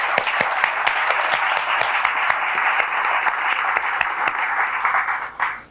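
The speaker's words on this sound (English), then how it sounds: "I think we ought to give her a clap." Church audience applause: a dense, steady clapping from many hands, loud and sustained, fading out at the end.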